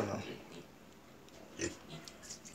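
Native pig on a Philippine farm grunting and oinking, a rough burst at the start and another around the middle, close and moderately loud over background noise.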